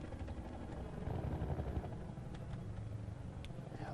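A helicopter in the game Half-Life 2 drones steadily at a distance, a faint, low rotor rumble that continues without break, with a few small clicks over it.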